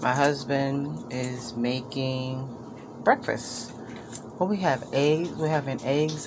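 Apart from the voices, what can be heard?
No distinct noise like a dog, phone or traffic.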